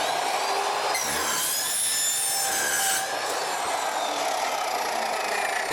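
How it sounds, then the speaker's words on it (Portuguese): An ASM Ultra AC713 compact cut-off saw cuts a 40x40 industrial steel profile of 18-gauge sheet, giving a steady, loud abrasive whine with a bright, rising screech through the cut and no talk. "Agora eu vou cortar um perfil industrial 40 por 40 na chapa 18."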